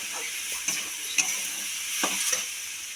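Onion chutney with chili powder is stirred in a sizzling pan, a quiet, steady frying hiss broken by a few sharp scrapes and taps of the spoon against the metal.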